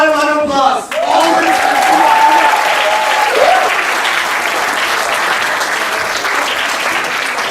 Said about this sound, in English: so we can give them one final round of applause